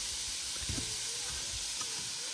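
Steam hisses from a lidded pot of thawing cauliflower rice on a kitchen stove, a soft, even broadband hiss that runs the whole time, with faint clinks beneath it.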